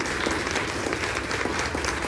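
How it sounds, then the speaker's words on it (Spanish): Steady applause from a gathered crowd at a community food-pantry handout in Tuzantla, a dense even wash of clapping at moderate volume with no gaps. "hay que darle un aplauso a don Norberto Vallejo"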